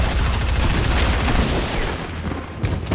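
Rockets and artillery fire in Fortnite, a loud, dense roar of blasts and rapid impacts that fills the whole stretch before easing slightly near the end.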